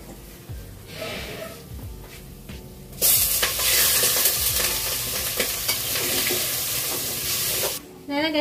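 Meat (karni) is sautéed in a pan, starting as a quieter sizzle and jumping to a loud, bright, continuous hiss of frying with stirring scrapes, then dropping briefly near the end.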